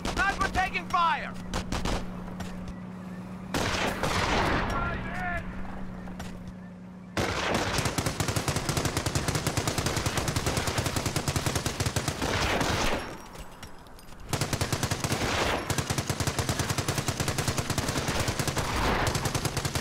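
Gunfire in a Company of Heroes World War II battle at Cherbourg, with dense bursts of rifle and machine-gun fire that start and stop in waves, mixed with game voices shouting over the clatter.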